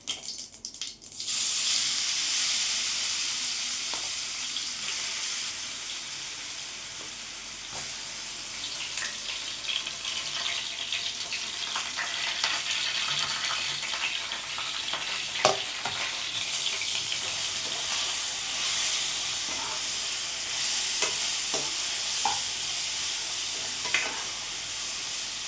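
Raw mango pieces being fried and stirred for mango pachadi, a long, steady sizzle close by with scattered spoon scrapes and clicks against the pan, and no talking.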